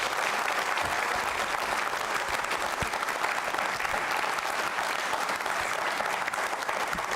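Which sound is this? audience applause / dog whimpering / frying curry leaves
audience applause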